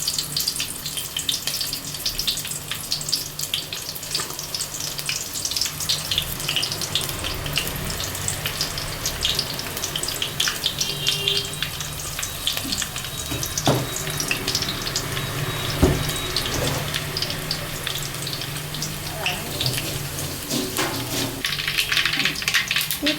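Chopped shallots frying in oil with popping mustard seeds for mango pickle make a steady, faint crackle and hiss with occasional sharper pops, heard close up with no talk.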